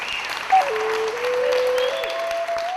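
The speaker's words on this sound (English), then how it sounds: "as the delegates applauded the drafting committee" Conference delegates applaud the drafting committee in a sustained, even round of clapping from a sizable crowd, with a tone from the room sounding over it.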